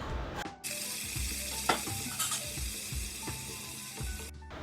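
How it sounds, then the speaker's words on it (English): Capsicum and green chilies sauté in a hot pan with a steady close sizzle, broken by the scrape and clatter of stirring. "Now I've just added some capsicum or green pepper along with some green chilies, and I'm going to saute it."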